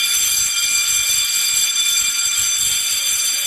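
A loud, shrill smoke detector alarm sounds continuously, a piercing high electronic tone holding steady and close without pause.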